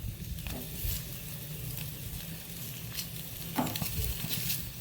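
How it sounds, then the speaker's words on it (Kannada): Eggs fry in a pan over a low flame for a Mangalorean-style egg fry, giving a steady, soft sizzle with occasional light scrapes of stirring. "ಇದನ್ನು ಈಗ ಸ್ವಲ್ಪ ಫ್ರೈ ಮಾಡೋದು, ಮತ್ತು ಉರಿ ಸಣ್ಣದಿರಬೇಕು"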